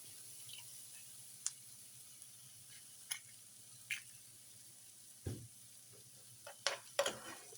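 An egg fries in oil for homemade wheat-flour noodles, a soft sizzle beneath scattered sharp clicks and taps of utensils, a few louder knocks near the end.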